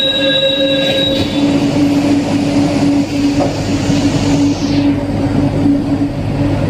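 A Singapore MRT metro train runs steadily and loudly throughout, with sustained wheel squeal, a low rumbling drone and faint clatter, no voices.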